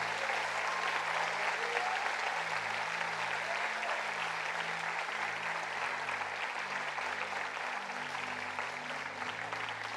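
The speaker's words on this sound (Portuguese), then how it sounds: "Vamos aplaudir o Senhor por isso" A church congregation applauds steadily and fairly loud for the full stretch, a dense wash of clapping over sustained low organ or keyboard chords.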